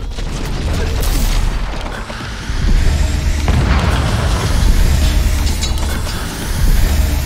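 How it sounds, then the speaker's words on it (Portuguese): A basic fragmentation grenade goes off in Cyberpunk 2077 amid loud, continuous combat noise, with deep booms and rumbling bursts that swell and fade over several seconds. "Eu tô usando uma granada de fragmentação básica."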